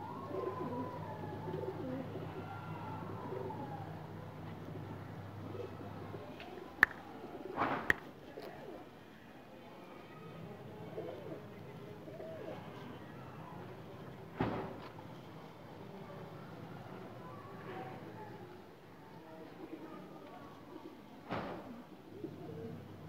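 A pair of Teddy pigeons coo softly and repeatedly in low, rolling phrases, with faint background noise and a few sharp clicks in between.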